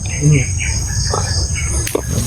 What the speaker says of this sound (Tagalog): Lamok ito.